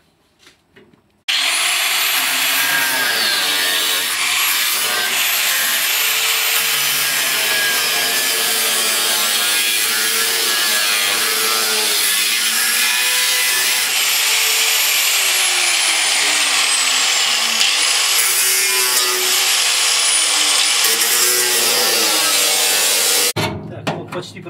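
A metal patch is cut from the body of a VAZ 2121 Niva during repair work, producing a loud, continuous grinding whine. It starts abruptly, holds steady for about twenty seconds close up, then cuts off.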